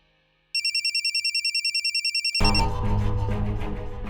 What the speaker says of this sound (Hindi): सरला को फोन लगा है